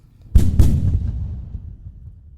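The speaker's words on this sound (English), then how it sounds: "Insert your gunfire here." Two sharp gunshots in quick succession, loud and booming, with a long fading echo trailing off afterward.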